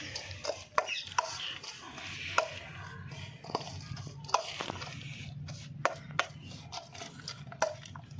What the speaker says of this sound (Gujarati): આમાં આપણે બધી વસ્તુ નખાઈ તો ગઈ છે, હાલો મિક્સ કરી દઈ